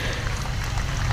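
A crowd near the Vatican applauding as the Pope's car passes in a funeral procession, a dense continuous patter of clapping heard at a distance, brief and unbroken.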